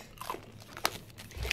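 Small sugar-coated chocolate candies being bitten and chewed close up, with a few quiet crunches and one sharp crisp crack in the middle.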